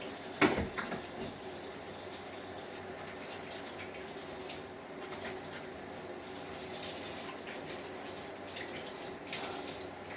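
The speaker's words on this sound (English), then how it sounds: "We're going to start out by washing our hands first." Steady running tap water spills into a sink as hands are washed before mixing ground beef for meatballs in a home kitchen, a continuous close splashing with a brief bump near the start and no talking.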